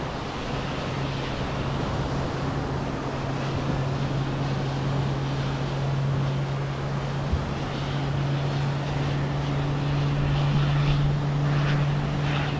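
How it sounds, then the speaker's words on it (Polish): A propeller aircraft approaching to land passes close over a canal, its steady engine drone humming throughout, fairly loud and continuous, with a constant low tone and broadband noise. "zaraz zobaczycie, jak tuż nad tym kanałem ten samolot podejdzie do lądowania"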